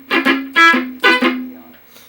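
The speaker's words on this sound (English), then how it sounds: "Palm muted should sound like this." Palm-muted guitar chords strummed in short clipped bursts, two pairs of choppy strokes with brief ringing tails, close and fairly loud with no talking, played as a lesson on a song.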